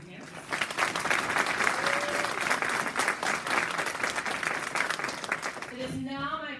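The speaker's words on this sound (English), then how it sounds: "please join me in one more round of applause for all of the recipients" Sustained applause fills a room at a community celebration awards presentation, a dense, steady roar of many clapping hands that fades near the end as a voice begins speaking.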